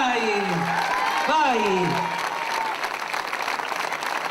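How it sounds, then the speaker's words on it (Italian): Crowd clapping for the parish priest at an outdoor summer concert in a small Italian village, with a voice talking over the start before steady applause continues underneath. "Vorrei fare un applauso al nostro parroco"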